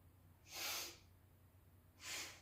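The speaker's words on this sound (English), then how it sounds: "I'm sniffing the breath out at the same speed through the nose as I cross the legs." Two sharp sniffs through the nose during a yoga exercise for neck, low back and core, one exhale and one inhale about a second and a half apart, close and fairly quiet against a soft room hum.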